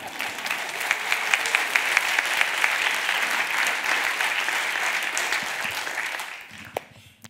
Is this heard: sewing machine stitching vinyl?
no